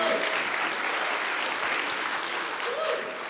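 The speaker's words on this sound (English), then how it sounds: "let's give a big round of applause." An audience at a retro magic convention gives a round of applause, a broad continuous clapping roar from a seated crowd that holds steady throughout, with faint tonal sounds briefly surfacing underneath.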